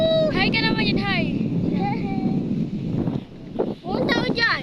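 Steady wind buffets the microphone at an open scenic outdoor spot in the Philippines, a constant low roar running throughout beneath close conversational voices.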